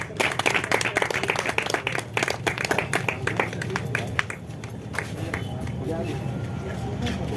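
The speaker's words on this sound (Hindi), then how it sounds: "एक बार जोरदार तालियां नन्ही सी बच्ची के लिए।" An audience at a World Theatre Day stage event claps for a little girl called to the stage: loud, dense applause that thins out and fades over several seconds, leaving room murmur and faint scattered claps.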